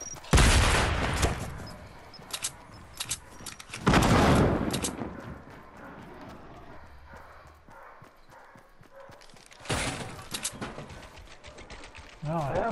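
Gunfire in the video game Fortnite comes as loud bursts of rapid shots separated by quieter stretches of footsteps and game noise, with players talking in Portuguese.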